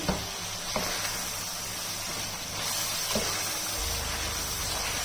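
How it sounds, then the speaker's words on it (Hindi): Mutton with Kashmiri red chilli and spices sizzles as it is fried in a pan for palak gosht, a steady close crackling hiss with a few soft clinks and stirring sounds and no talk. "यहाँ पे मटन की भुनाई करते हुए अभी मुझे सिर्फ 5 मिनट हुए हैं"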